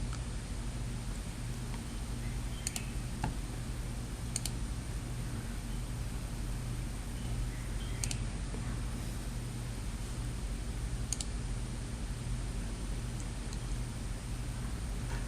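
Computer mouse clicks: a few sharp, isolated clicks spaced several seconds apart, faint against a steady low hum and hiss, with no talking.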